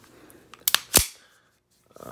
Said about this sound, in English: Let's clear the weapon for you guys, make sure it is clear.